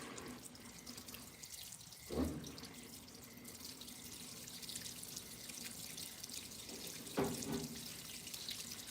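Water runs steadily into a washing machine at low pressure, a thin continuous hiss and trickle with two brief louder splashing surges.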